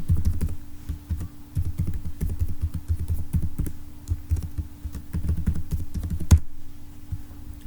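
Steady typing on a computer keyboard while logging in, a quick irregular run of close key clicks and taps that stops with one sharper keystroke near the end.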